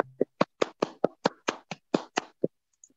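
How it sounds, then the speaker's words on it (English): Scattered, sparse hand claps from a small audience after an evening amateur radio history talk, about a dozen separate sharp claps fading out, fairly close and with no voices. "maybe you could give a bit of a round of applause, please"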